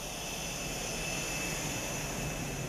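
A stealth aircraft gives a steady, broadband jet roar that stays even and unbroken throughout, with a faint high whine running over it and no talking.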